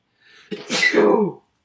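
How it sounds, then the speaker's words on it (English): A single loud, close sneeze with a short inhaled build-up followed by a sharp, breathy burst. "Dramatic sneeze"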